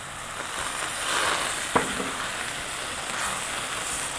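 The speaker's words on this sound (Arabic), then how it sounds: "وننزل عليها بالمرق اللي سلقنا فيه اللحم" Meat broth poured into a hot pan of fried meat for Yemeni fahsa, a steady hissing sizzle with one sharp splash-like crackle near the middle, fairly quiet and without talk.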